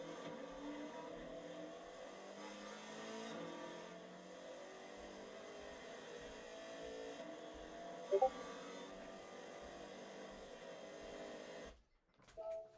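Engine of a car driven in Gran Turismo 7, a fast non-race build tuned for Pikes Peak, droning steadily and fairly quietly with layered harmonic hum, a brief sharp blip near the end, then cutting out before a short return.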